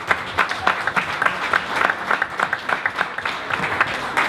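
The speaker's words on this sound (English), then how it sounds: "So can we get a round of applause for that?" Audience at a Minneapolis Black Business Week summit clapping, a moderate, fairly sparse round of individual claps from a mid-sized room, steady for a few seconds.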